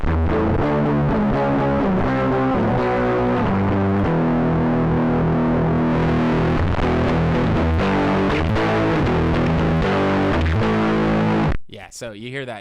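Electric guitar chords and riffs played through a CircuitPython-powered multi-effects pedal, loud and fuzzy with heavy distortion, ringing continuously before cutting off abruptly near the end.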